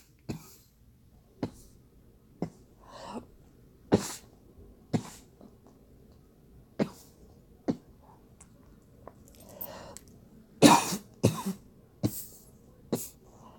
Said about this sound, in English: I'm sorry for all this coughing.